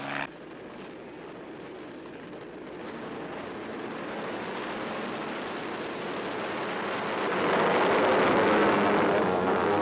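A police helicopter in a horror film flies with a continuous whooshing rotor and engine roar that swells louder toward the end, heard alone without speech.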